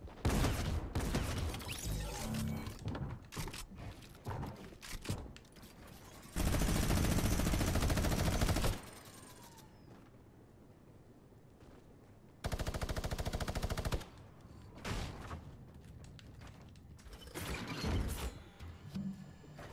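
Rapid bursts of automatic gunfire from a gun in a Fortnite video game, loud dense volleys in two long stretches separated by scattered single shots and quieter gaps, with no talking.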